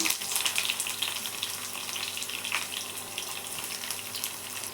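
Chopped onions frying in a pan with mustard seeds, chana dal and urad dal, a continuous bright sizzle that stays steady throughout, with no talking.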